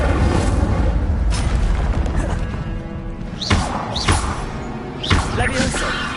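Spells cast in the Hogwarts Legacy video game, with several sharp magical bursts and whooshing impacts cutting through a dense, busy game soundtrack and effects.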